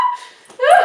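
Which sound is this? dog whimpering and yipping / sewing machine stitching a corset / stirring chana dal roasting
dog whimpering and yipping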